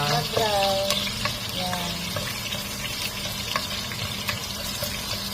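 Garlic sizzles steadily in a hot pan while being stirred for squid adobo, with a loud, close, continuous crackle and a few scraping stirs over it.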